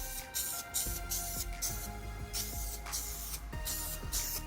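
Spray can laying a quick coat on a 92-95 Honda Civic bumper, short hissing bursts with pauses between them, close by under a background hum.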